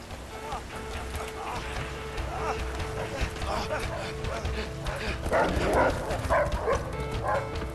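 Dogs bark repeatedly in the video game A Way Out during a chase, their barks and yips mixed under loud shouting voices and running noise.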